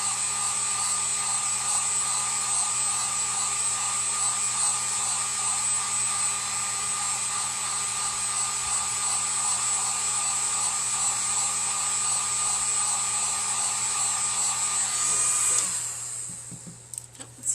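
A hair dryer blows steadily and loudly up close while drying a firecracker-style home decor craft, a constant whooshing motor drone that runs unbroken for most of the stretch before cutting off near the end, followed by brief handling clatter.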